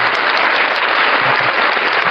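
Loud, dense applause from an audience at a public event in Barbacena, Brazil, a steady wash of many hands clapping throughout the short stretch with no voices on top.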